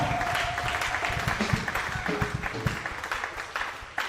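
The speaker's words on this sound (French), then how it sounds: "Acclamez très fort" Sustained applause from a crowd at a church ministry's tenth anniversary celebration, steady and fairly loud, with scattered voices mixed into the clapping.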